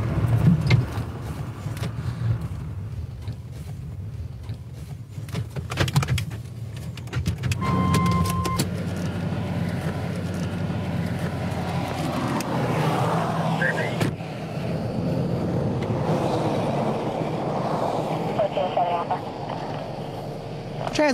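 A car engine idles steadily through a police traffic stop, a low continuous rumble underneath officers' voices speaking throughout, with occasional rustles and clicks from the vehicle.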